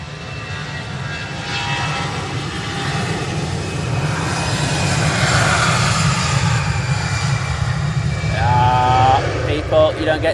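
Airplane taking off from Manchester Airport bound for Amsterdam, a loud broad engine roar that builds and holds, with people talking nearby over it.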